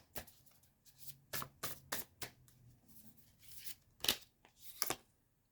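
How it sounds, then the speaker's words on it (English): A deck of Healers of the Earth oracle cards is shuffled by hand in quick, soft riffling bursts with short pauses between them, close and quiet, with no voices. "Let's go ahead and pull some Healers of the Earth Oracle cards."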